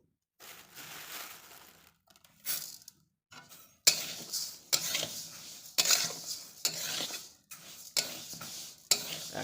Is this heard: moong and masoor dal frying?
yes